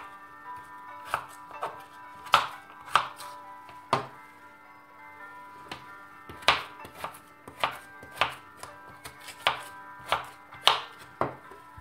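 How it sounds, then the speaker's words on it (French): A knife chops potatoes into small cubes for frying, a series of crisp, close taps on a cutting board at an uneven steady pace, with no talk. "نقصوها مرصوات صغيرين ونقلوها في الزيت"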